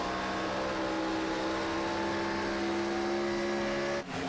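A sim racing stock car at Atlanta drones with a loud, steady engine tone, its harmonics holding nearly constant before a short dip and cutoff near the end.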